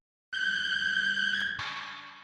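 A heavily distorted synth squeal with fast vibrato, layered with chorus, reverb and EQ for an industrial metal track, sounds as a single bright, piercing tone that holds and then shifts into a harsher burst before fading.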